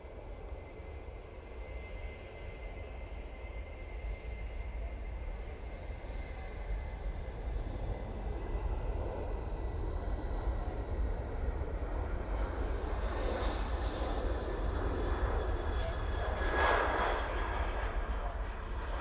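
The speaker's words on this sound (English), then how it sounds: "There goes the Ryanair" Ryanair jet airliner passing at Manchester Airport, a distant, fairly faint engine roar that builds gradually and peaks near the end, with low rumble throughout.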